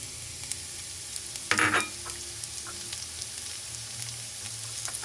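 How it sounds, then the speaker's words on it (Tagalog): Garlic and onion are added to well-cooked ginger. A sharp burst of sizzling erupts as they hit the hot pan, then settles into a low, steady frying crackle with light stirring taps. "Add na natin yung bawang and sibuyas."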